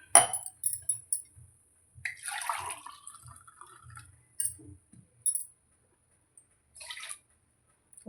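Coconut milk is poured into a tumbler with soft liquid trickles and splashes, joined by a few light glass clinks and taps, heard up close and fairly quiet, with short pauses between pours.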